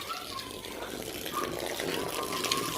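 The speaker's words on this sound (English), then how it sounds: "I just want to quickly water all the trees and then I'm done" Water running steadily from a hose while trees are watered outdoors on a late-summer day, a continuous broadband gush close by with no pauses.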